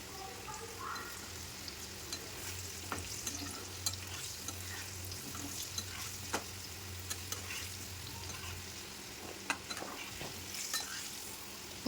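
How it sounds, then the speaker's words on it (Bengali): Sweet pumpkin frying in a pan, a steady close sizzle with scattered clicks and light stirring scrapes across the whole stretch, no talk. "এখানে আমি মিষ্টি কুমড়ো লাল করে ভেজে নিয়েছি আর কুমড়োটা ঠিক এইভাবে লাল করে ভেজে নিতে হবে"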